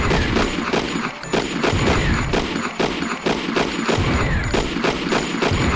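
A submachine gun in the game Thing Thing 2 fires rapid bursts, loud and dense, with brief gaps between volleys and no talking.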